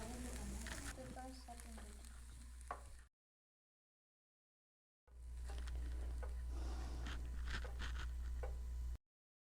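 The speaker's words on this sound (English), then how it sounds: "Stir fry for 1 minute." Vegetables stir-fried in a pan for a keto vegetarian salad, a steady close sizzle with scattered scraping and tossing sounds, broken by a two-second silent gap before the frying resumes.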